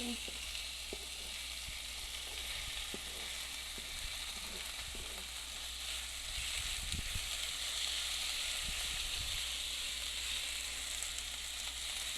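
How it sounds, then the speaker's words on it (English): Steady, loud sizzling of oil frying in a pan while making white chicken pizza, a continuous crackling hiss that runs throughout with no talking. "Sizzle."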